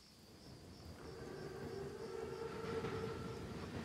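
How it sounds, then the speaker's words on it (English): A massive armored train in a Call of Duty WW2 mission rumbles as it approaches, a low rolling roar swelling gradually with a faint tonal whine on top and no talk. "Train's right on time. Biggest train I've ever seen."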